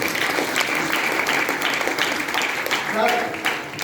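Applause rises from an audience at a wellness business event closing session, a dense steady patter of clapping filling the space, with voices audible in the crowd alongside it.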